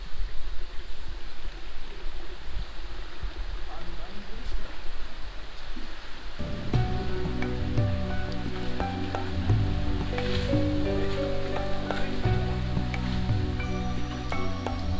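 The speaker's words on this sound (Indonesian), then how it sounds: "Dan untuk cuaca kali ini hujan terus di sini" Continuous rain pours down in a forest, a dense, steady hiss that runs throughout, with louder, more tonal sounds joining in about halfway through.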